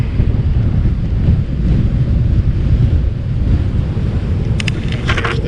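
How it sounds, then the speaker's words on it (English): Strong wind roars steadily across the microphone while cycling in Aruba, a constant low rumbling buffet with brief crackling gusts near the end. "whoa, it's windy"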